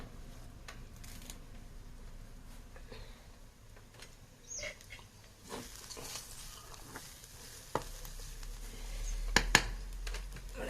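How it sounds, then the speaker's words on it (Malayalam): Crushed curry leaves fry in a pan while being stirred, giving a faint, low sizzle broken by scattered scrapes and sharp crackles that grow busier toward the end. "ഇനി നമ്മുടെ കറിവേപ്പില ചേർത്ത് കൊടുക്കാം"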